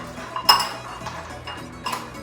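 Metal spoon scraping and clinking against a pan while spiced Greek herbed nuts are stirred, a few sharp clinks and rattles amid soft shuffling, close by and fairly quiet.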